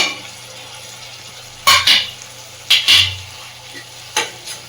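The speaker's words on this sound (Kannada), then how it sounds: "ಇದಕ್ಕೆ ನಾನು ಇವಾಗ ಒಂದು ಚಿಕ್ಕದಾಗಿ ಕಟ್ ಮಾಡಿ ಇಟ್ಕೊಂಡಿರುವಂಥ ಟೊಮೆಟೊನ ಸೇರಿಸ್ಕೊತಾ ಇದ್ದೀನಿ" Chopped tomato tipped into a pan of frying capsicum and peas, then stirred: three bursts of spoon-scraping and sizzle on metal, close and clear, spaced apart over a low steady background hum.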